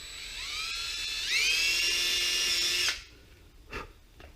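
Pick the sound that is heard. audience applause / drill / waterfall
drill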